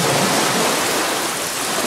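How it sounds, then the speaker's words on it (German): Heavy rain pouring down during a thunderstorm, a dense, even hiss of falling water, close and steady, with no voices. "Das geht jetzt mehr und mehr in grauer Regen."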